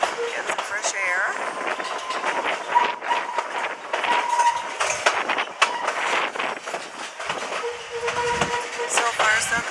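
Steady rumble and clatter of Amtrak train cars rolling on rails, heard from the open space between cars on a journey into Canada, loud and continuous with squeals and rattles throughout.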